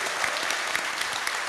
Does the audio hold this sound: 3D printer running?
no